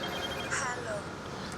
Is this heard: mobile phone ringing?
yes